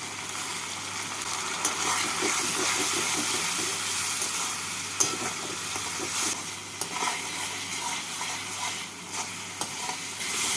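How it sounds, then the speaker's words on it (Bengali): Spice paste fries in a pan with a splash of water for a fish curry, giving a steady, close sizzle with occasional stirring scrapes and clinks throughout. "এবার এর মধ্যে দিয়ে দিচ্ছি মিশিয়ে রাখা মশলা মশলার বাটিটা ধুয়ে জল দিয়ে মশলাটাকে ভালো করে কষিয়ে নেব"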